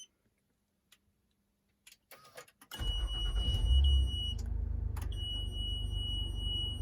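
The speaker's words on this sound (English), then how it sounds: "what you're hearing, that beeping, is the car booting up" A van started from a keypad rumbles with a low engine, while repeated electronic beeps and a steady high tone sound from its driving systems booting up.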